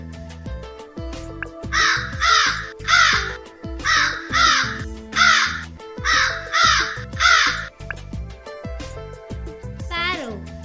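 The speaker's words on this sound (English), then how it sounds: "Crow." Crow cawing in three loud bursts of harsh, repeated caws, each a rapid triple call, set against background music with a short voice near the end.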